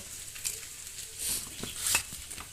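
Cinnamon stick, two cardamom pods and four cloves crackle and sizzle in hot oil for a Bengali small-fish curry, a soft steady frying hiss with a few louder pops, close and alone.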